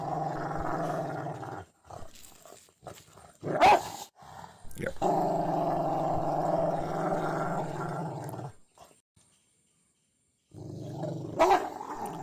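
A dog guarding a bone gives low, rumbling growls in several long bursts separated by pauses, with a couple of sharp snarling snaps, close and fairly loud; a person briefly speaks.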